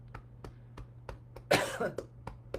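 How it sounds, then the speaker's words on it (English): A single close, loud cough bursts out midway, with faint rhythmic tapping before and after it. "make yourself cough"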